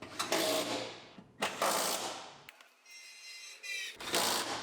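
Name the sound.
tightening bolts on Lexus IS250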